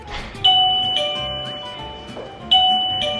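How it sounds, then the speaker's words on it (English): Electronic doorbell-style chime from a dog's paw-or-nose sensor button rings out twice, each a bright two-tone ding ringing on for about a second, loud and close in a quiet room. "A little sensor goes off to notify us that she is sitting here waiting to go outside."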